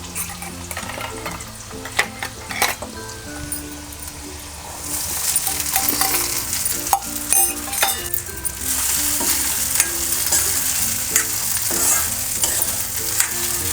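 Soaked sabudana sautéed in oil with already fried potatoes, a continuous sizzle with stirring scrapes and occasional metallic clinks of the spoon against the pan, close and steady.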